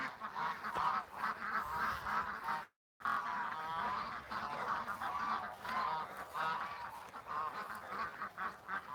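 Domestic ducks, including white ones, heading toward a lagoon, give a continuous busy chorus of quacking and honking fowl calls, fairly close and steady throughout with a brief gap.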